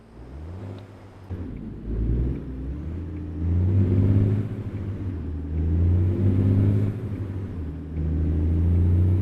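Video game car engine revving under throttle, with the torque steering over: a low droning engine climbs and surges in repeated revs, loud and with no talk.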